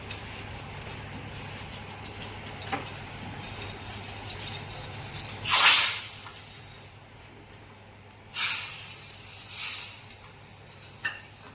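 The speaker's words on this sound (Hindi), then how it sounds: "अब मैं इसमें लगा दूँगी तड़का।" Hot cumin tempering is poured into a bowl of raita made with boondi and black salt, giving a short loud sizzle burst, then another quieter hiss a few seconds later, over a faint low background hum.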